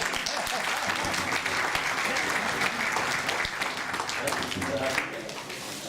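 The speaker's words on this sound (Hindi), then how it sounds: "जोरदार तालियां" Applause at a Republic Day gathering in a Hindu temple, with crowd clapping mixed with chatter and voices, continuing for several seconds before dropping slightly in level near the end.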